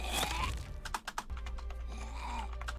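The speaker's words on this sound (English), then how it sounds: "I must have been typing when I was recording that" Bursts of computer keyboard keystrokes, a quick run of sharp clicks, heard close over a steady background hum with brief murmuring.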